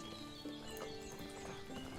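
Horse hooves clip-clop with a brief whinny in the Medieval Dynasty video game, a steady rhythmic trot sitting inside a constant bed of game music and ambience, with no talking.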